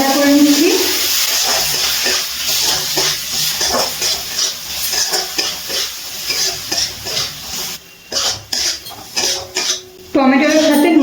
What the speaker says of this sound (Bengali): এবার ভালো করে নাড়াচাড়া করে নিচ্ছি।